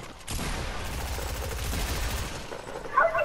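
Rapid automatic gunfire rattles in a multiplayer shooter video game, a dense continuous burst of shots lasting a few seconds at moderate loudness.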